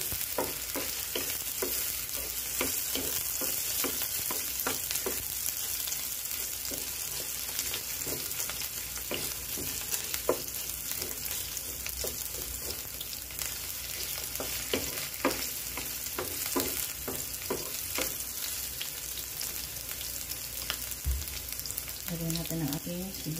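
Ginger and garlic frying in a pan for ginataang sitaw with chicken, a steady loud sizzle with frequent stirring scrapes and clicks throughout, close up.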